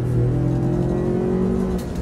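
A Ford F-150 pickup with a 2.7-litre V6 pulls hard on a two-lane country road. A loud, steady engine drone climbs slowly in pitch over about two seconds.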